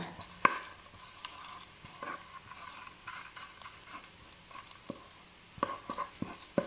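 Red curry paste fries in a little vegetable oil over low heat for a pork belly stir-fry, giving a steady soft sizzle broken by a few sharp spoon scrapes and taps against the pan.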